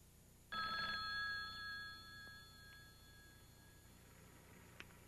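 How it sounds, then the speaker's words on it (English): Telephone bell rings once in a quiet room, a loud steady electronic trill lasting about three seconds before fading, with no talk. "Morgan receives a phone call from a logger named Skip Wood"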